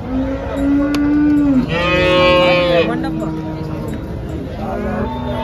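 Holstein Friesian dairy cows moo loudly nearby at a cattle market, several long low calls overlapping one another against a noisy outdoor background.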